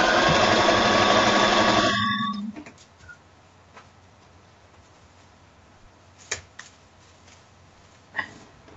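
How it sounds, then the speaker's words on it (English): A sewing machine stitches a long length of fabric in a steady, close whirring run for about two seconds before stopping, followed by quiet room tone and a couple of faint clicks. "I'm attempting to sew this massive long thing"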